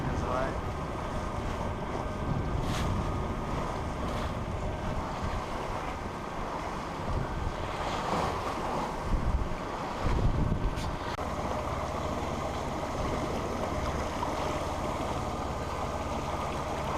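Wind buffets a sailboat under way in a good breeze as waves wash against the hull, a steady rushing roar with gusty microphone wind noise throughout, close and continuous.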